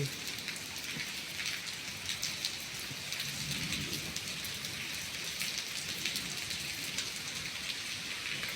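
Heavy rain pours steadily onto a temple pavilion on a high mountaintop as wind gusts through. A dense, unbroken hiss stays loud throughout with no voices.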